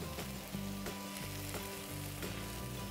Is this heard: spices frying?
yes